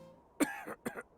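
A game character in Octopath Traveler gives a short burst of coughs, two or three rough bursts close together, fairly loud and with no other sound.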